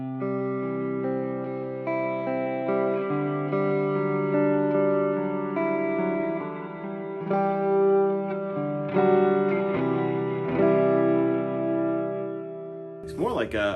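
A guitar run through a pedalboard reverse effect, sustained chords swelling and layering in a continuous wash with shifting harmonics, steady and loud with no talk, ending in a brief burst of noise.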